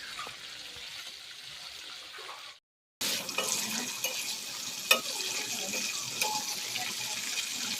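Chicken pieces fry in hot oil for a chicken biryani, giving a soft, steady sizzle with small crackles, broken by a brief silent gap before the sizzling resumes.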